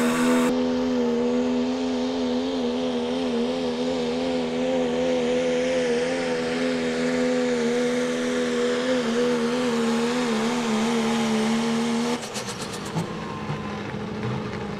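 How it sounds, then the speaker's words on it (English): A 1997 Dodge diesel truck at an outlaw truck and tractor pull spools up with a loud, steady engine roar and strong harmonics, holding high revs for about twelve seconds before the note drops off and turns rougher. "He's spooling it up."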